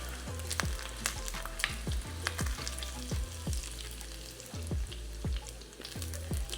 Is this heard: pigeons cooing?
no